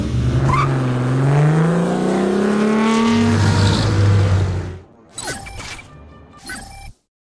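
A car engine accelerates in the 007 From Russia With Love video game, with loud rising revs that run steadily and then cut off, followed by short bursts of mechanical noise before silence.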